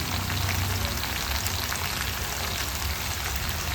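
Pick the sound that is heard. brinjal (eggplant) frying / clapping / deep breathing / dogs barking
brinjal (eggplant) frying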